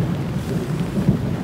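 A low, deep rumble of thunder rolls on, with a steady hiss of rain behind it.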